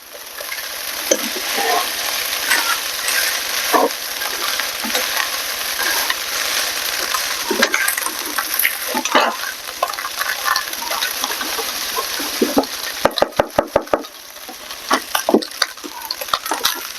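Hash browns fry in a pan with a loud, continuous sizzle while a spatula scrapes and stirs; a quick run of sharp clacks marks the flipping near the end, with no talking.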